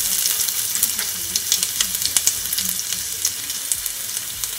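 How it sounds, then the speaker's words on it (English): Garlic, ginger and onions sautéing in olive oil in a pot on the stove for sweet and sour fish: a loud, steady close sizzle with scattered crackles and pops, and no voices. "And you're just gonna allow it to saute just for a couple of seconds."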